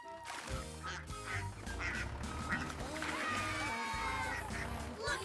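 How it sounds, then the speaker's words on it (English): On a farm, ducks quack repeatedly, close and loud, over a steady low engine rumble, with a few voices mixed in. "Look at the ducks following us."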